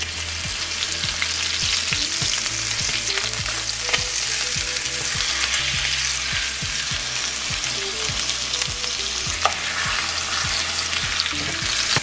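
Food sizzles and fries steadily in butter in a hot pan, a continuous loud crackle with occasional scraping as it is turned, no voices.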